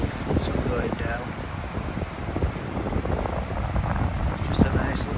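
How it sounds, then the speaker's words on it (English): Wind buffets a microphone on a beach at sunset in Dieppe, France, a steady close roar and rumble throughout while someone talks over it. "I hope you can hear me alright, it's just a little bit windy."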